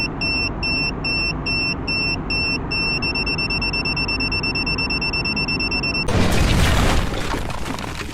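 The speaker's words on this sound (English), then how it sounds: "the bomb exploded" A steady series of electronic beeps gives way to a sudden loud bomb explosion that rumbles for a couple of seconds and then fades.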